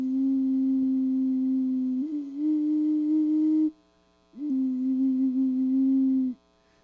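Chameleon-shaped clay flute sounding a pure, steady low tone in two long held notes separated by a short silence, the pitch wavering slightly as each note begins.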